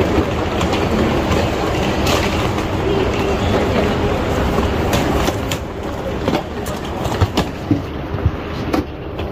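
A train on the Incheon Airport rail line rumbles loudly and continuously, with rhythmic wheel clatter and a few sharp clicks and squeals toward the end.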